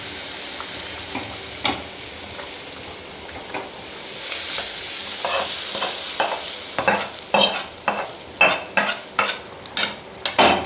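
A tempering of tomato and curry leaves hisses softly in a pan, then stirring picks up into loud, rhythmic spoon scrapes and clanks against metal as it is worked and tipped toward a pot of moong dal sambar.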